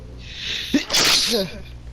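A single loud, close sneeze bursts out with a sharp intake and explosive release, lasting about a second against a quiet indoor background.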